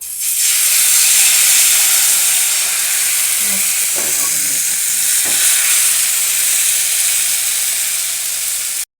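Sabudana and bhagar paratha frying in oil on a pan, a loud, continuous close hiss and sizzle with a few soft scraping touches midway, no voices.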